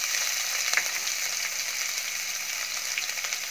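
Crushed ginger and garlic sizzle steadily in a hot pan with royal cumin for restaurant-style malai kofta, a loud continuous frying hiss with a couple of brief sharper pops, no talking.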